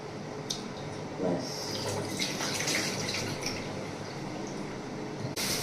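Tap water running steadily into a sink while fish is rinsed at home, a continuous broadband wash with faint splashes and a brief louder burst near the end, heard alone without talk.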